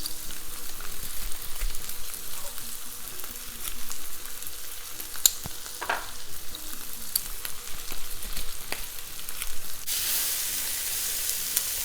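Three garlic cloves frying in a pan of sauce, a steady close sizzle with soft stirring clicks and bursts of hiss throughout, no one speaking.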